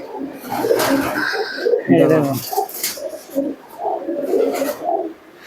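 Giribaj pigeons, a Murshidabad breed, cooing at close range in short throaty bursts, with people talking intermittently over and between the calls.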